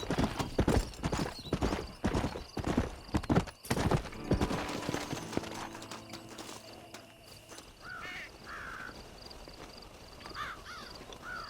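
A horse gallops in the Red Dead Redemption video game, with rapid rhythmic hoofbeats close up that fade as crows caw and birds chirp in the open landscape.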